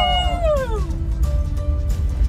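Kittens in a car on a drive give a long descending meow, then a thinner second meow, over steady low road rumble inside the vehicle.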